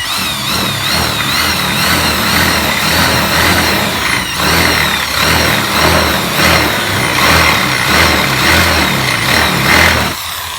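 A small router cuts a pilot hole right through for a sliding door lock, its high motor whine running continuously and loud at close range with slight fluctuations in load.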